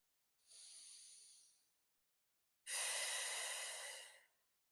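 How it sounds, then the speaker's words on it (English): Two slow, deep breaths during gentle movement practice, a softer airy inhale followed after a pause by a fuller, louder exhale, close to the microphone and with no talking. "And just breathe."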